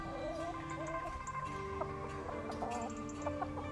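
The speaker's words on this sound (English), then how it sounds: "This is another really big rooster." Big rooster and chickens clucking at a farm glamping site, several short close clucks and calls over a faint low background hum.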